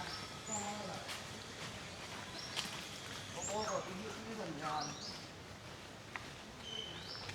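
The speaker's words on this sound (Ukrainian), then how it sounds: "Так співають птахи, ви тільки послухайте." Birds sing in short chirping phrases and whistles, scattered and moderately faint, over steady outdoor background noise on a road in Thailand.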